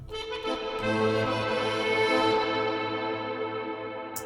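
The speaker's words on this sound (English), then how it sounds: "You can hear the decay and the reverb kicking in." A sustained synth chord in a nu-cumbia track swells with heavy reverb, then its tail slowly decays and fades, bright echoing harmonics lingering before cutting off.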